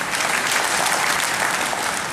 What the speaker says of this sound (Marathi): कवी राजेंद्र सगर यांच्यासाठी आपण जोरदार टाळ्या वाजवूया